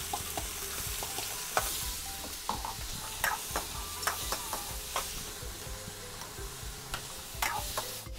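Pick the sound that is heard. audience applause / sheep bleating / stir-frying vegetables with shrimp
stir-frying vegetables with shrimp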